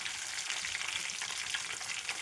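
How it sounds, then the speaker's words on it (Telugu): Dry red chillies, curry leaves and garlic sizzle in hot oil as tempering for gongura pickle, a soft, steady, hissing fry with no talk. "ఇప్పుడు లాస్ట్లో తాలింపు పెడుతున్నాం. ఇవన్నీ ముందుకంటే పోపులు వేస్తున్నాను. ఇవ్వండి ఎండుమిర్చి, కరివేపాకు, వెల్లుల్లిపాయలు."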